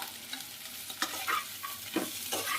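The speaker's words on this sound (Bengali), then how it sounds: "খুব ভালো করে সব কিছুকে আমি মিনিট খানিক সময় ধরে লো টু মিডিয়াম ফ্লেমে ভেজে নেব" Fried mixed small fish are stirred in a pan over low to medium flame, with a soft sizzle broken by several close scraping stirs of the spatula.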